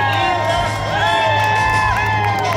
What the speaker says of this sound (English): Come on, guys, give the guys a cheer.